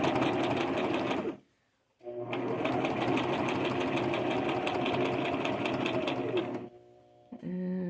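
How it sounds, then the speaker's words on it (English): A sewing machine stitching a purse, running in fast continuous bursts of rapid needle clatter, close and loud, stopping briefly once and then pausing again near the end. "Go back on the same stitch line."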